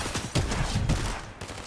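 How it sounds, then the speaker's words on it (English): Enemy gunfire in the video game Fortnite, a rapid cluster of loud shots with a couple of heavier bursts, close and punchy over a short stretch. "They shooting at me."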